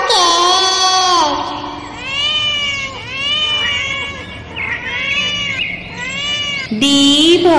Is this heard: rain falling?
no